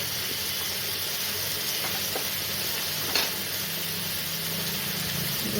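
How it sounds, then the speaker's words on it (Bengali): Fish curry base with garlic paste, ginger paste and ground cumin, for an eggplant-and-fish dish, sizzles steadily in a hot pan while being stirred. The frying hiss is continuous, with one brief louder scrape partway through and no talking. "অল্প রসুন বাটা দিয়ে আমি নাড়ছি।"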